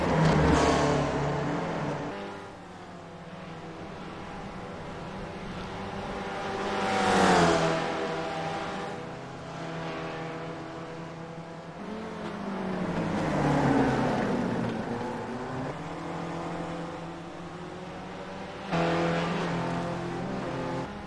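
Open-wheel race car engines screaming through gear changes in iRacing at Oulton Park Island, loud, continuous engine notes rising and falling with revs, with several cars' tones overlapping as they pass close.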